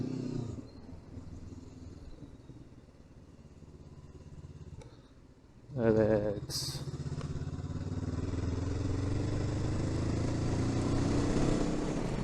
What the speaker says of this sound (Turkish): Yani motorun sesi de çok güzel.